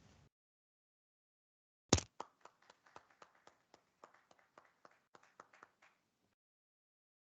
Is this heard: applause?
yes